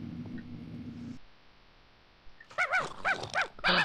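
A Minecraft dog gives a quick series of close, loud barks and yelps in the second half, after a low hum and a quiet pause.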